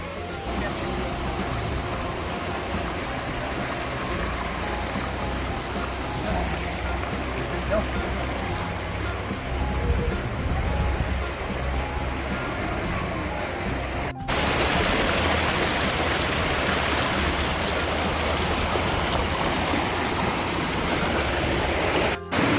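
Water pours down a stream into a hidden pool near Rishikesh, a constant close rush that grows louder and brighter partway through, with a voice talking over it.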